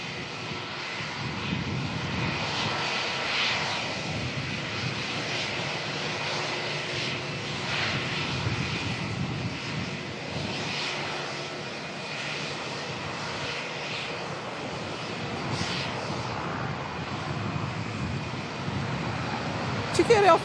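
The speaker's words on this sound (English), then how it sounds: "Check out how fast this Rex Saab's taxi." Rex Saab turboprop airliner taxiing quickly at Melbourne airport, its steady engine drone continuous and fairly loud throughout, with broad rumble and a faint tonal whine carried over outdoor background noise.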